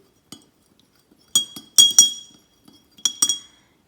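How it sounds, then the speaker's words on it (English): A spoon clinks sharply against a glass while stirring a salt water solution, several bright taps in small clusters with silence between. "Give that a little stir around too."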